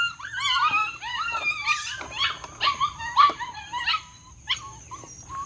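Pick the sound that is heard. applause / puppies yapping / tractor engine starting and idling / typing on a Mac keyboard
puppies yapping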